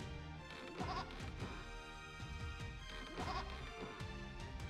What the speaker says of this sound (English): That's a funny sheep.